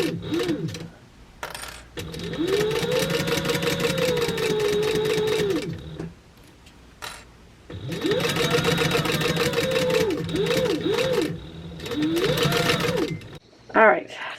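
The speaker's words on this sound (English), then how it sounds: "I'm just going to base stitch the sides together and the lining together." A sewing machine base-stitches the sides and lining of a fabric book bag in two long runs, its fast motor whine and rapid needle chatter close and loud, with short quiet gaps and a clunk near the end.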